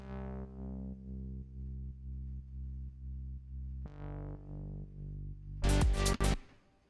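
A deep, sustained synth bass from the Diva synthesizer plays a steady repeating pattern, then shifts lower, ending with a short burst of loud, noisy chords.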